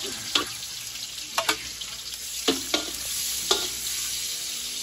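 Wild mushrooms and onions saute in a hot pan with a steady sizzle, broken by several sharp clacks of a utensil stirring and scraping; no one speaks.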